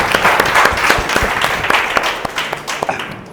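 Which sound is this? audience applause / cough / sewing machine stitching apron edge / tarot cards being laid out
audience applause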